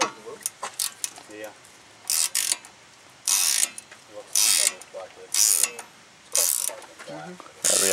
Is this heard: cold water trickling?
no